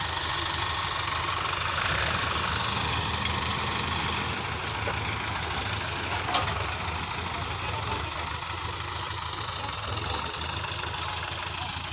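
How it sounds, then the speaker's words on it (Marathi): Four heavy tractor engines, three behind and one in front, rumble and chug continuously nearby while pulling out something stuck, a loud steady diesel drone with no pauses. "तीन ट्रॅक्टर मागून लावले आणि एक समोरून आहे"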